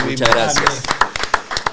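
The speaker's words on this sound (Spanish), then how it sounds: "un aplauso para él" An audience welcomes a guest with clapping: a voice is talking at first, then a run of sharp, close hand claps follows at an uneven pace.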